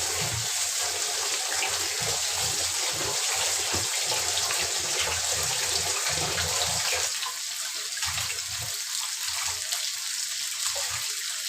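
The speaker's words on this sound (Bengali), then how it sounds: "এবার আমি পানি দিয়ে সুন্দর করে চালটা পরিষ্কার করে দেব" Running water pours steadily as rice is rinsed for chicken biryani, a continuous close hiss and splash with intermittent sloshing from the grains being stirred, thinning slightly toward the end.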